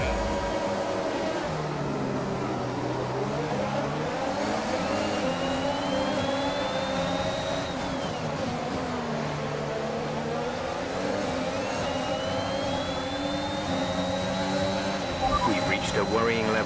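A Red Bull Formula 1 car engine in the F1 2021 racing game, its high-pitched whine rising and falling steadily through gear changes, running continuously under a voice.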